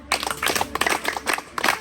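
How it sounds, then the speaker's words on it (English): An audience at a hygiene and education talk for young girls breaks into brief, fairly close clapping: a dense patter of many hands in short bursts, nearly free of talk. "please clap for them"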